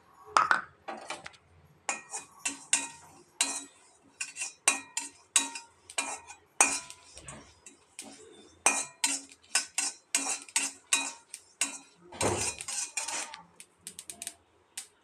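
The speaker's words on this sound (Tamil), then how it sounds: "எள்ளு நல்லா பொரியுது" White sesame seeds dry-roasting in a pan, crackling and popping in quick, steady bursts alongside scraping clinks of a spoon against the metal, close and fairly loud with no talking.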